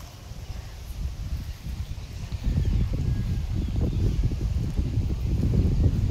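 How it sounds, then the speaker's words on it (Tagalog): Strong southwest monsoon wind blowing across an open field during kite flying, a heavy low buffeting roar that grows louder and gustier partway through and keeps pounding the microphone. "Sobrang lakas ng hangin kasi mga kalitar eh."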